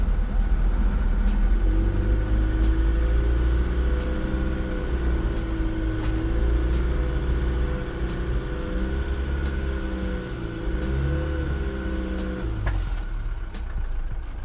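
A restored Mercedes 240GD with both differential lockers engaged grinds along off-road, its diesel engine droning steadily and close with a low rumble that falters briefly near the end.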